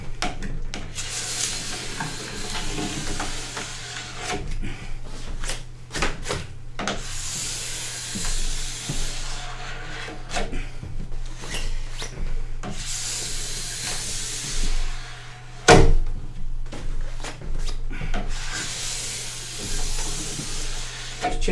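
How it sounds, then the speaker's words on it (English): A plastic scraper held at a slight angle rasps hot wax off a snowboard base in long, repeated close strokes, a steady scratchy rubbing with short pauses and one sharp knock partway through. "Put my scraper at a little bit of an angle, stop it from riveting."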